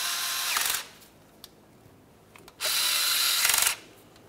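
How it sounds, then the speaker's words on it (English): A T25 Torx driver whirs in two short bursts, with a quiet gap between them, as it tightens the mounting bolts on a governor pressure solenoid on a 1994-2002 Dodge Ram 2500. The tool sounds close and there is no talking. "Let's use our T25 to tighten these two."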